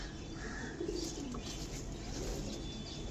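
Short-bodied pigeons with yellow eyes, kept for sale, coo softly and steadily alongside faint chirps and the occasional rustle of wings, a dense continuous bird murmur close by with no voices.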